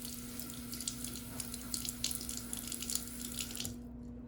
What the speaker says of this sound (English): I'm gonna wash my hands of Tarnex